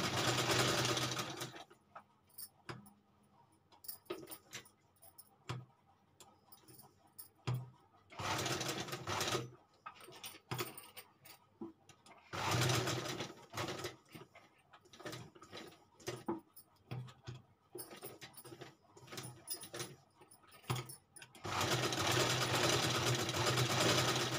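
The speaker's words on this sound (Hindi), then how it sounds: "किनारे किनारे पे सिलाई लगानी है।" A sewing machine runs in repeated bursts, stitching along the edges of fabric, its whirring mechanism loud and close with short pauses between runs and a final long stretch.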